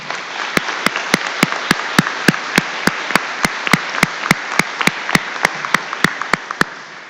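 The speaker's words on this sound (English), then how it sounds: "Let's give these guys a round of applause." Claps ring out sharply at a high school graduation, one after another in a steady, even rhythm, over a constant background hiss.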